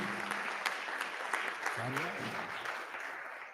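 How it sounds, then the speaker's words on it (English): Applause at a school board meeting honoring a student of the month, sustained clapping from the room, soft and somewhat distant, with a voice speaking briefly over it. "Another round of applause for Angeline."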